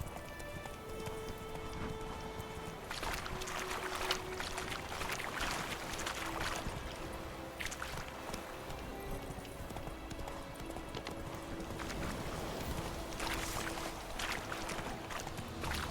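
Horse hooves clip-clopping steadily in The Witcher 3 video game, a continuous rhythmic gallop at moderate level with some rushing ambience behind it.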